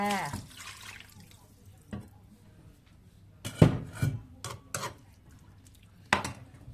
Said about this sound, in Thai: เราใส่น้ำลงไปค่ะ น้ำล้างครกเหมือนเดิมค่ะ